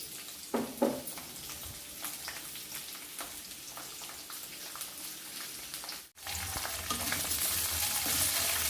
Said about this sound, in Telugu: ఉల్లిపాయ ముక్కలు చక్కగా వేగేంత వరకు మనం 2 నిమిషాల పాటు